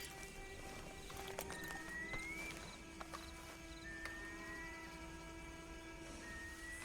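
Horse hooves clip-clopping at a walk in the Red Dead Online video game, a steady rhythm set against a constant background hum and occasional soft tones.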